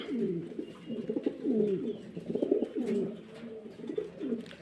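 Roman gall pigeons, a hen with a cock strutting before her, coo in close, repeated bubbling phrases, loud and rhythmic, with short gaps between each rolling call.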